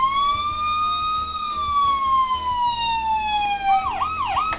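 A toy Playmobil fire engine from 2015, set 5363, sounds its electronic siren: a steady loud wail sweeping slowly down, then switching to a fast rising-and-falling yelp near the end, with no talking.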